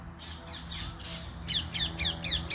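Babblers call out noisily while mobbing a serpent eagle, a rapid series of harsh squawking bursts that grows louder and more frantic toward the end, close by with no voices.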